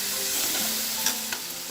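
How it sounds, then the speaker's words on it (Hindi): Nihari meat fries in spices while a spoon stirs it, producing a steady close sizzle with a couple of soft scraping knocks, no talk. "अच्छे से मिक्स करेंगे चमचे से इसको 5 मिनट तक हम इसको मसाले में फ्राई करेंगे"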